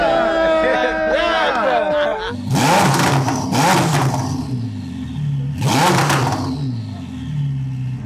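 A straight-piped, tuned Ferrari SF90 gives three sharp, loud revs in quick succession close by, each surging and then dropping to a rumbling idle, after a stretch of other engine noise.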